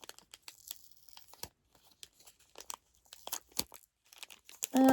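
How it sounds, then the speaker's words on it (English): Plastic packaging tape being torn open on a doll outfit package, a series of short crinkly rips and crackles in close-up, with quiet pauses between bursts. "I could just open up the tape here"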